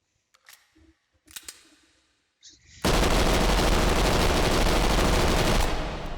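PPSh-41 submachine gun in the VR shooter H3VR, fired full auto in one loud, dense sustained burst lasting about three seconds, after a few quieter handling clicks and knocks.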